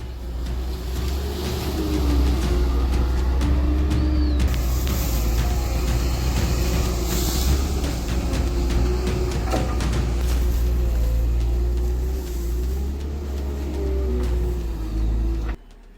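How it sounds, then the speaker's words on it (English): A heavy excavator's engine roars on a mountainside as it lifts a load of dirt and rock, a loud, steady diesel rumble that holds for the whole stretch before cutting off abruptly at the end. "lifting the load up as the engine roars across the mountainside"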